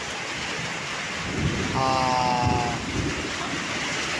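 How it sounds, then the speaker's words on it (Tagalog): Heavy rain pours down in a dense, loud roar, with a low rumble swelling in the middle. "Bigla bumuhos ang ulan, napakalakas po ng ulan."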